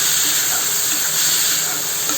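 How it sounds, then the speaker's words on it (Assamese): Cinnamon frying with spices in a pan, a loud steady sizzle and hiss that runs unbroken from start to end with no talking. "দালিখিনি এতিয়া মছলাৰ লগত অলপ ভালকৈ ভাজি ল'ম।"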